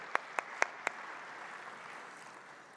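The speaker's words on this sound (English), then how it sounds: "Let's clap for Alam, for her tears." A few sharp hand claps ring out, then fade into a soft, low patter of distant audience applause at a women's summit against quiet room noise.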